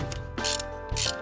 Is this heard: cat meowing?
no